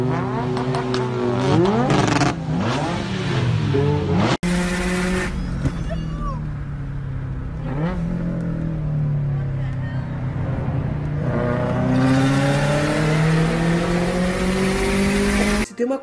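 A Mazda RX-7 rotary-engine car revs hard and accelerates, its loud engine note sweeping up and down through repeated throttle blips, with a sharp cut and a renewed high-pitched climb, close and continuous.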